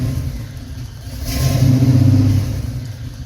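A 1968 Chevrolet Camaro's engine idles near 600 rpm and then revs up in a swelling low rumble that peaks mid-clip and eases back down, heard close with no talk.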